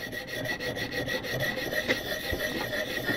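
Knife blade drawn repeatedly across a ViperSharp sharpener, a steady rasping, scraping stroke sound up close and fairly loud, continuing without a pause and with no voices.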